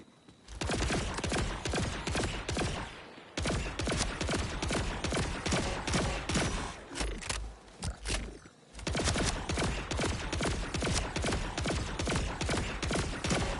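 Continuous dense rapid gunfire from a weapon in Borderlands 4, loud sustained bursts with brief pauses between volleys.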